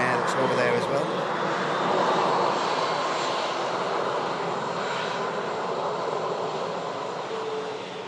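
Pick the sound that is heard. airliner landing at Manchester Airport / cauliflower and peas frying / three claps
airliner landing at Manchester Airport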